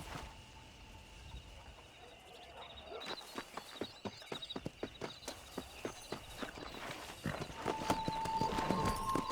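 Horse hooves clip-clop at a steady quickening walk in the 2010 Western video game Red Dead Redemption, the rhythmic thuds growing denser as the ride builds, with ambient outdoor sound and a brief snort.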